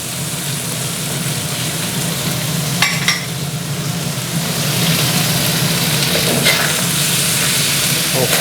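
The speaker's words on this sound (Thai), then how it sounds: "แล้วก็ค่อยๆกลับนะครับ ไม่ต้องคนมากนะกลับแค่ให้โดนความร้อน" Chicken liver stir-fries in a pan over high heat, producing a loud, continuous, close sizzle with a couple of brief utensil scrapes and clicks.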